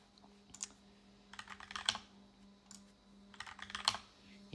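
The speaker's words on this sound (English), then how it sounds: "I'm going to click run and type in my password on every single Pi here." Password being typed on a computer keyboard while setting up a Raspberry Pi 4 cluster: quiet, close bursts of rapid key clicks in three clusters separated by short pauses, over a steady low hum.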